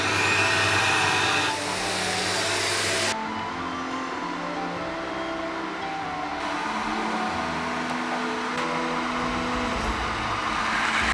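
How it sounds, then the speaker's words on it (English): A vacuum forming machine gives a loud, steady drone with a motor hum throughout, dropping in pitch partway through before rising again. "And now I'm gonna take these and make a vacuum mold."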